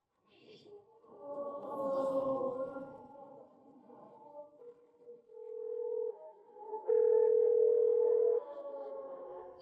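A phone call to a friend rings out after some murmured sound, as two long, steady electronic ringback tones, the second louder and closer.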